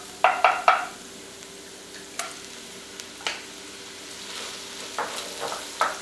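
Pumpkin pieces toasting in coconut oil in a pan give a soft, steady sizzle with a few sharp clacks of utensils against the pan near the start and scattered light ticks afterward, with no voices.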